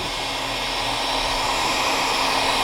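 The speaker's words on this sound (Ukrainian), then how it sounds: "Така думка нагріти феном." Steady, loud blowing roar of a heat gun running continuously, heating a part near a seal on an Isuzu D-Max, a constant airy whoosh with a faint motor hum underneath.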